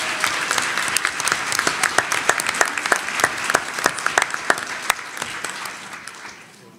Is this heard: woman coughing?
no